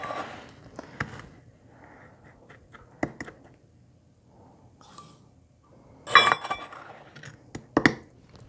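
Sugar being scooped and measured out by the cup, 5.5 cups, in a kitchen while making wild grape jelly: scattered light clinks and taps of utensils and dishes, a few sharper bursts, with no talk.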